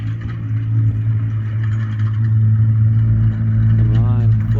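A Ford Raptor pickup truck with large tires and upgraded suspension idles with a deep, loud steady rumble nearby, and a voice speaks briefly near the end.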